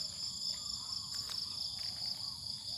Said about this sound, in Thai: เสียงจิ้งหรีด เมื่อกี้นี่ได้ยิน